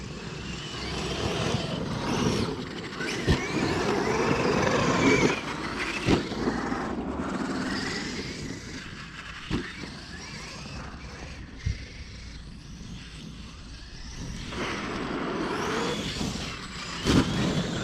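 An Arrma Outcast EXB 1/5-scale RC car driving outdoors at half throttle and coasting, its motor whine rising and falling with sharp knocks and bumps from the chassis, fairly close.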